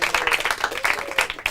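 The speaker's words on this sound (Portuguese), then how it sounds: "Salva de palmas para eles." Brief burst of audience applause for the Vasco da Gama team at a Portuguese-language quiz round, steady clapping filling the whole moment with a faint voice underneath.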